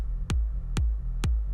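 Electronic kick drum and sub bass with sidechain compression: three evenly spaced punchy kicks, each ducking the sustained sub bass briefly before it swells back, giving a pumping, cleaner low end.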